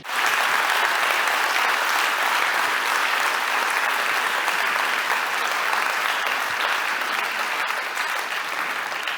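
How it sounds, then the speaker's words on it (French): An audience applauds steadily, a dense, even wash of many hands clapping that holds at a constant level for several seconds, with no speech on top. "Voilà, il y a l'applaudissement maintenant."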